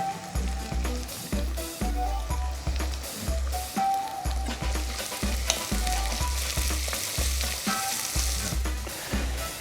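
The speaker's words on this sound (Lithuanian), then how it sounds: "Štai, šitas visas daržovės keliauja į kaitusį puodą, kur aš įpyliau kokius 4-5 šaukštus alyvuogių aliejaus." Chopped vegetables sizzling in a hot pot with four to five spoonfuls of olive oil, a constant fry hiss broken by rhythmic stirring and scraping thumps, close and fairly quiet, with no talking.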